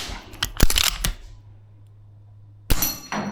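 A VFC URGI V3 gas blowback airsoft rifle with 4UAD parts fires a quick burst of sharp, snappy cracks and clacks, falls quiet, then fires another shot near the end; the shots are close and loud.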